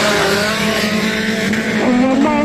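Rear-wheel-drive race cars drifting at a Ringwood Raceway wreck race, engines revving loud and close with pitch sliding up and down and tires squealing, without speech.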